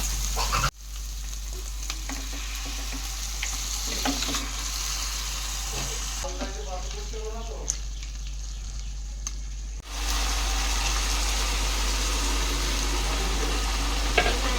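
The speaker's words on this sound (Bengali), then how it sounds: "এরপর এর মধ্যে দিয়ে দেবো আমি ম্যারিনেট করা মাটনটা" Marinated mutton meets a fried spice paste for Bengali mutton curry: a loud steady sizzle, a sudden cut, quieter clattering stirring and scraping of the pan, then the sizzle rushes back strongly, all without speech.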